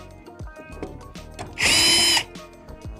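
Power drill driving screws into a steel joist hanger set on shims during timber floor framing, one loud steady whir lasting about half a second amid scattered knocks and handling clatter.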